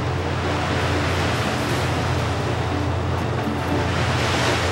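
Waves from the Burin tsunami crash ashore in a steady, loud, rushing roar of churning surf, continuous and unbroken with no voices over it.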